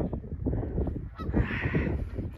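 Several geese honk loudly and repeatedly at close range, their harsh calls overlapping in a noisy, continuous chorus.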